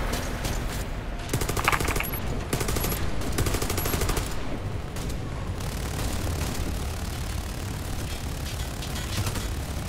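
Video game gunfire during a Pripyat mission on insane difficulty: repeated bursts of automatic fire in quick rhythmic volleys, fairly loud and continuous, with mixed distant shots and no speech.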